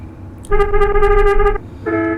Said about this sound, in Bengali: দেখতে পাচ্ছেন হর্নগুলো কিন্তু একদম রিয়েলিস্টিক